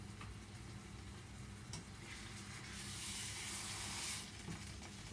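A steak fillet sizzles steadily in a hot pan as it is basted with oil for an Italian steak sandwich; the close frying hiss swells louder midway, then settles back.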